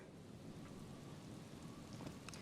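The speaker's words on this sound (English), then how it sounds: "It's raining just a teeny tiny bit." Light rain in the detective game Disco Elysium patters softly and steadily as a faint, even wash with occasional brighter drops, and no voices over it.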